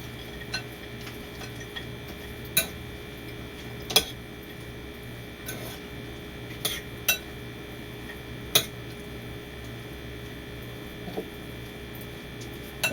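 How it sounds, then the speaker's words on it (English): A kale and avocado salad with seeds is stirred in a bowl, giving sparse, light clicks and taps of a utensil against the dish at irregular intervals over a faint background hum. "I'm just going to give it a stir."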